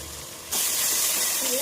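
Vegetables with ginger-garlic paste sautéing in a pan for veg biryani, a steady loud hiss and sizzle that starts abruptly partway in and continues without talk.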